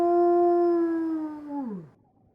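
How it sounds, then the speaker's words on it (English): A wounded creature's howl as a sound effect: one sustained, tonal, loud howl that bends downward and fades out at the end, heard alone. "It yanked its claw back, howling."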